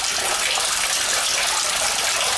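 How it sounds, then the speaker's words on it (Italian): Water gushes from a leak in a public housing building in Aversa, Italy, as a loud, steady, hissing rush that carries on without a break. "ecco l'acqua che fuoriesce dalla perdita, guardate quanto è abbondante"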